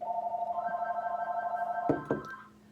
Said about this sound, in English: It would just keep ringing if I didn't shut it off.